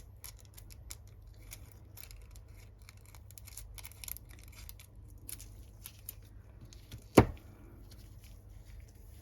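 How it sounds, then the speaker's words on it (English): Scissors snip a piece of nail art foil with one crisp, close cut that stands out against an otherwise quiet room. "So rather than wasting any of the foil, I'm going to just cut bits out."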